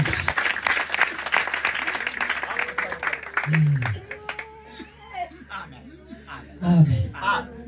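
Applause from a church congregation during a lively sermon, bursts of clapping mixed with crowd chatter and a few chuckles, rising and fading twice over a low hum.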